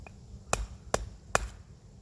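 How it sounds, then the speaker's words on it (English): A baton striking the spine of a zero Scandi-grind knife to drive it into wood: three sharp, evenly spaced woody knocks, close and clear over quiet background. "how well that zero Scandi grind holds up to some serious batoning"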